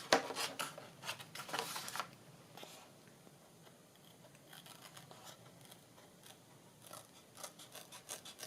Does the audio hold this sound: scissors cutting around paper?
yes